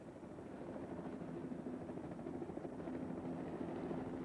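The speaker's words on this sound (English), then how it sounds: "The biggest group of helicopters to fly in formation over the city" A large group of helicopters flies in formation over Wellington city, giving a steady, continuous rotor drone of moderate loudness with no speech.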